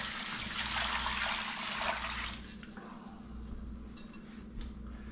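Liquid pours into a pot of venison shanks, a loud splashing gush for about two seconds that then fades to a quieter trickle over a low steady hum.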